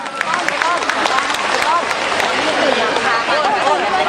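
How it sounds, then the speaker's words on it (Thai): Audience at a Thai Children's Day event applauding to welcome kindergarten performers, steady clapping mixed with lively chatter and children's voices close by. "ขอเสียงปรบมือต้อนรับกับอนุบาลสืบสารถิ่นไทยครับ"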